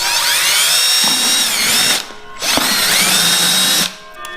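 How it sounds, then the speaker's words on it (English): A handheld power drill bores holes in a minnow trap, with two loud, close whining bursts of about two seconds each that rise and settle in pitch, separated by a short pause. "I just happen to have a drill"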